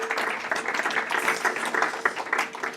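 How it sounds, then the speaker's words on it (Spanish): Audience applause during a Spanish social economy talk, dense steady clapping from many hands at moderate distance, continuing without pause. "Yo te voy a aplaudir por todo lo que has dicho"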